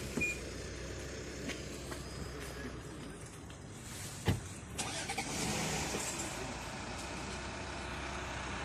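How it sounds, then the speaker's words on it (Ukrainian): Police patrol cars pull away at the scene of a hostage standoff, their engines rumbling steadily with a sharp bang midway, under faint background voices. "Роз'їжджаються патрульні автомобілі, керівництво."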